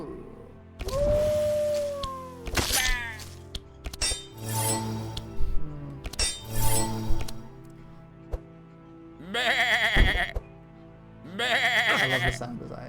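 Golden sheep in the Across the Obelisk video game bleats in two clear, loud cries near the end, following a stretch of someone talking over chimes and clinking game effects.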